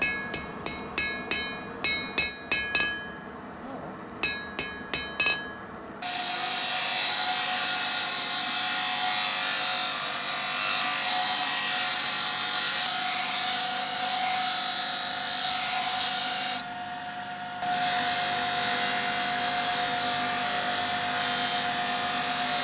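A steel scraper blade's bevel is ground after forging, starting with several sharp hammer-like strikes and then a long steady loud grinding whine that pauses briefly before resuming, with no talking.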